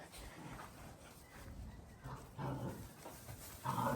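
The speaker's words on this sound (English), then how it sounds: "You want to see the puppy, Beastie?" A puppy whimpers and whines softly in short bursts, with faint panting between, quiet and close.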